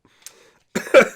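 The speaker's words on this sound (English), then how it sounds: "that laughing turned into coughing" A man's laughter breaks into a short burst of rough, close coughing, preceded by a faint brief sound and then near silence.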